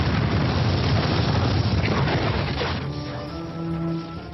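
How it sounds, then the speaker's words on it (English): A massive explosion rocking a house by the city walls at night: a loud, close roaring blast that rumbles on for a few seconds before breaking into scattered crackling debris. "late one night there was a massive explosion."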